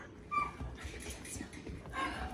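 Silver Weimaraner puppies at six weeks old whimper and give small yips, a few soft high cries close by over a quiet room murmur.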